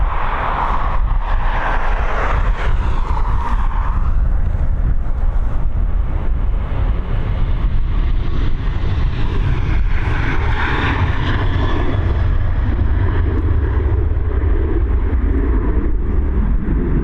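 An airliner departs Dublin Airport, a loud sustained engine roar that swells and shifts as it climbs away, heard alone without talk.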